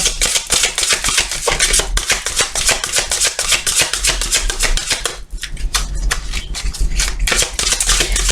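Tarot cards being cut and shuffled by hand, a rapid run of crisp flicking riffles and slaps, close and loud, with a brief pause partway through before the shuffling resumes.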